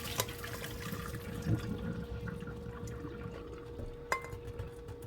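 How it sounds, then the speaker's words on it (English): Water drains from boiled ackee through a strainer, a soft continuous trickle and patter close by, with a couple of sharp knocks against the strainer and a faint steady tone underneath. "we're just going to strain our ackee"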